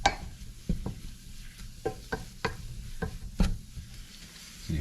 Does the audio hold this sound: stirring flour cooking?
yes